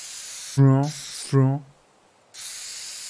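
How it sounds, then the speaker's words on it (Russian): A spray paint can hisses in Teardown: a steady, airy spray starts and stops, with a person speaking briefly between bursts. "Это спрей, я могу рисовать им, по всей видимости."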